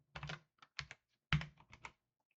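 Computer keyboard typed in short bursts while entering C# code, clusters of quick key clicks separated by brief pauses, close and fairly clear with no talking.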